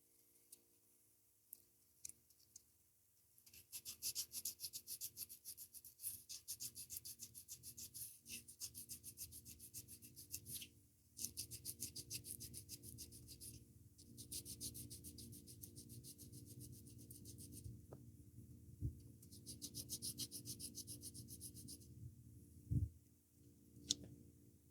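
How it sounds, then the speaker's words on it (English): Sandpaper rubbing back and forth on the wooden body of an old guitar during a refit, a steady close rasping scrape in long bursts with brief pauses between strokes, no voices. "Let me sand that a little bit."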